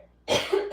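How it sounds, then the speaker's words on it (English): After a brief quiet pause, one sharp, close cough bursts out and trails off with a rough, throaty tail, heard alone without talking. "I'm gonna cough."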